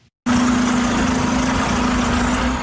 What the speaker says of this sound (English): This is what the engine of a diesel truck sounds like.